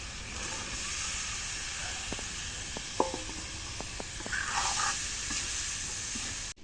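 Potatoes and pointed gourd frying in a wok of cooked-down spice paste, a steady close sizzle with a spoon scraping and clacking against the pan as they are stirred.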